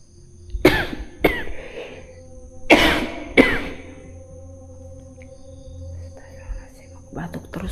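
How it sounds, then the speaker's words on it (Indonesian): Several sharp coughs from a person in a quiet hotel room in Denpasar, two pairs of harsh bursts close to the microphone, then near silence and a last faint cough at the end. "Batuk terus lagi, maaf ya."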